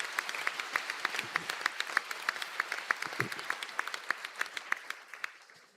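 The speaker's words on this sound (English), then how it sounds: "Please give a round of applause for the graduates of these programs." An audience at a university conferring ceremony in Donegal claps for graduates in sparse, distinct claps that stay moderately loud and then fade gradually toward the end.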